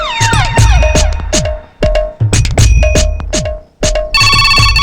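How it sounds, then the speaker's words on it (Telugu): A telephone ringing loudly at midnight, an electronic ringtone repeating in bursts of warbling tones with short gaps, close and alone. "అర్ధరాత్రి ఫోన్ ఏంట్రా బాబు"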